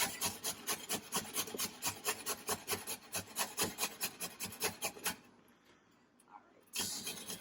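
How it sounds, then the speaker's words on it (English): Peeled vegetables are rubbed quickly against a box grater for a cabbage roll sauce, making a fast, even rhythm of rasping strokes up close. The strokes stop briefly, then start again. "Use a box grater, that means they'll basically disintegrate into the sauce."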